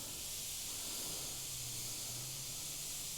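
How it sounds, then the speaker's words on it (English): An airbrush sprays with its trigger held down, giving one steady, even, faint hiss of air that runs unbroken from start to finish. "Keep the airbrush and the speed the same, and I've got that air pressed down at all times"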